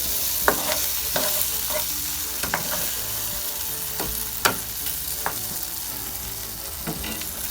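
Sausage frying in a pan with a steady close sizzle, broken by frequent short clinks and scrapes as it is stirred, with no voices.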